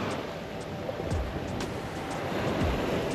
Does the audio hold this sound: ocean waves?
yes